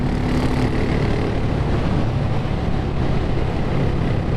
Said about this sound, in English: Exhaust note on it is lovely.